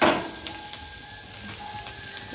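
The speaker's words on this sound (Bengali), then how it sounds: "এরকম করে নাড়িয়ে নাড়িয়ে তোমরাও ভেজে নেবা" Onions and chillies fry in mustard oil while being stirred, giving a close, steady sizzle with light scraping and soft stirring knocks and a louder burst at the very start.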